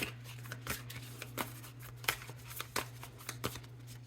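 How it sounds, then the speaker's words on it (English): A deck of tarot cards is shuffled by hand, giving a steady run of crisp papery clicks and flicks over a low constant hum, with no talking. "We're going to shuffle this"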